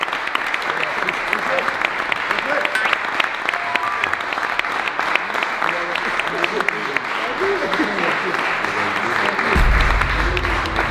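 Players of the French national football team applaud at a dinner table, a busy patter of clapping mixed with chatter, laughter and voices throughout, ending in a louder low rumble.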